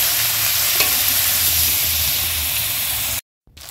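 Maggi noodles with vegetables stir-fry in a hot pan, giving a loud, close, continuous sizzle with a faint hiss of steam, then a sudden brief silence near the end.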